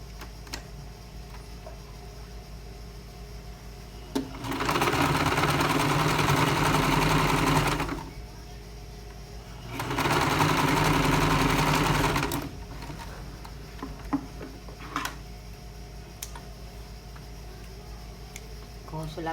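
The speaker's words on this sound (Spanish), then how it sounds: "entonces antes de unir esto, vamos a coser las pinzas del posterior" Domestic sewing machine stitching darts on the back piece of women's trousers, two steady bursts of about three seconds each separated by a pause, close and fairly loud, with faint clicks and handling noises in between.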